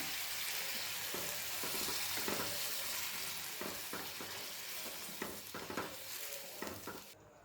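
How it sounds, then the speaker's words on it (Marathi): Warm water poured slowly into a sizzling brinjal curry masala in a pan, loud steady frying hiss with stirring scrapes and clinks toward the end, no voices. "कोमट पाणी घालायचं आहे हळूहळू घालायचं आहे म्हणजे अंगावर उडणार नाही"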